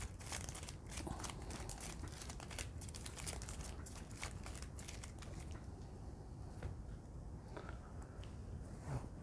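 Playing cards being shuffled during a tabletop card game, a steady run of crisp riffling and shuffling rustle close to the microphone with no talk over it.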